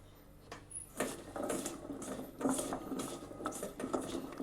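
Cut potato fries being mixed with turmeric in a dish, gentle scraping and clinking of a utensil against the bowl in short repeated strokes, quiet and close with no talking.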